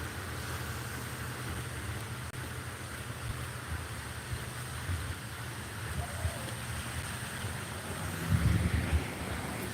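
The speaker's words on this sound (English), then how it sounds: "Water sounds nice," Lake water laps softly at the shore on a breezy Georgia morning, a low continuous wash with wind rumble over the microphone and faint background activity, no speech.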